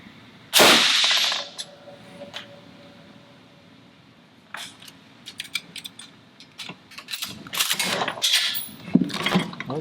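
A single loud shot from an MG42 machine gun, fired with one round in the feed tray, rings out sharply near the start, followed by mechanical clicks and handling noises.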